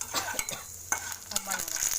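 Chana dal and urad dal frying in hot oil in a pan while being stirred, a steady high sizzle broken by scraping, clinking strokes of a spoon against the pan, close and alone.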